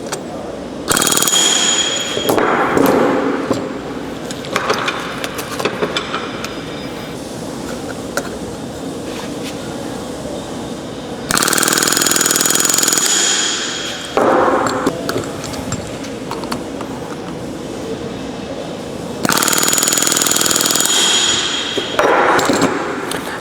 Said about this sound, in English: I will finish shooting the rest of the rivets in the repair